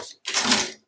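A paper trimmer slices through scrapbook paper in one short, crisp scraping cut of under a second that follows a brief click, alone and close.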